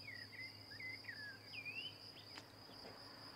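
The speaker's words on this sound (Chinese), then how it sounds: "可以听到鸟叫虫鸣的声音" Insects chirp steadily through a quiet countryside night in rural Montenegro, a constant high trill with a few bird-like whistles weaving through it, moderately near and unhurried, with no one talking.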